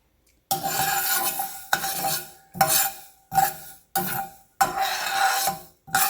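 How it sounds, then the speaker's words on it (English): Mustard seeds heating in a pan for an instant jalapeno pickle, stirred in six separate bursts of scraping and light sizzling, each about half a second to a second long, with short silences between. "Don't burn this mustard. It's enough just to heat it."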